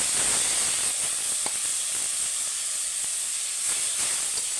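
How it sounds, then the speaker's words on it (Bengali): A mixed spice paste sizzles in hot oil with fried potatoes and onions, making a loud, continuous, hissing fry that stays close and steady throughout, with no talk over it. "দিয়ে আলুর সঙ্গে ভালো করে মশলাটা ভেজে নেবো।"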